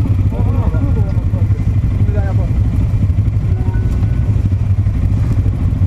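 A motorcycle engine rumbles steadily nearby on a trail ride at Pareloup, Aveyron, with light clattering on top and no clear revving peaks.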